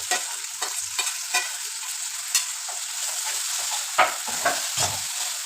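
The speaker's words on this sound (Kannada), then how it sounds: "ಈರುಳ್ಳಿ ಮತ್ತು ಶುಂಠಿ ಬೆಳ್ಳುಳ್ಳಿ ಪೇಸ್ಟು ಎಲ್ಲ ಚೆನ್ನಾಗಿ ಆಯಿಲಲ್ಲಿ ಫ್ರೈ ಆಗಿ" Onion and ginger-garlic paste sizzle in hot oil while a spoon scrapes and stirs the pan, with irregular knocks and scrapes rising over a constant frying hiss.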